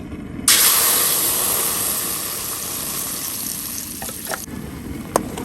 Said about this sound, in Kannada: ಈಗ ಇದೇ ಕಡಾಯಿಗೆ ನಾನು ರುಬ್ಕೊಂಡಿರುವ ಮಸಾಲೆನ ಹಾಕ್ತಾ ಇದ್ದೀನಿ